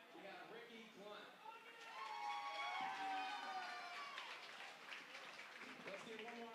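Applause for the seniors at a senior night swim meet of three schools, an echoing crowd clapping and cheering that swells and keeps going in a large reverberant pool hall.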